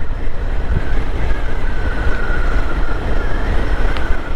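Strong dust-storm wind roars loud and steady past a motorbike on a solo road ride from Kolkata toward Siliguri, a broad continuous rush with a faint whistling tone running through it, close to the helmet.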